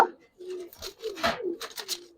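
Giribaz pigeons coo in soft low repeated calls, close by, with faint voices and some rustling around them.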